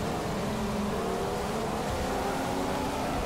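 Williams Formula 1 car engine in the racing game F1 2015 at Interlagos in a storm, a steady high-pitched drone with rain-like hiss, held continuously and loud throughout.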